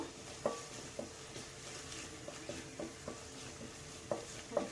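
Coriander powder and spices frying in a pan for egg rice, with a soft steady sizzle and intermittent scraping taps of a spoon stirring, fairly quiet and close, no voices.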